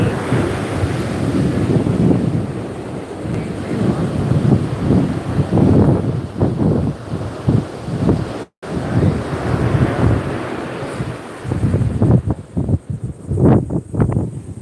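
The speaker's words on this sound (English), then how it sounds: "Yep, the tide is starting to come in." Ocean waves wash onto a Florida beach as the tide comes in, a steady rolling surf roar with wind buffeting the microphone and faint footsteps or sand rustle nearby.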